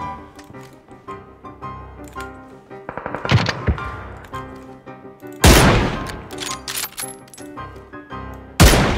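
M4 rifle fire in the video game PUBG, with rapid bursts of sharp shots, loud and close, amid other distant game reports and clatter.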